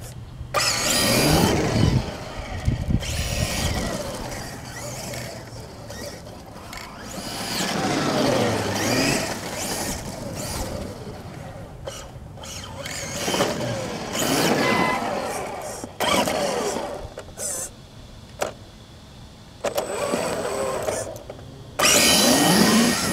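Kyosho MFK2.0 Blazer RC car fitted with a wheelie bar driving around, its electric motor whining and revving in bursts that swell and fade as it moves near and far, with occasional bumps and pauses.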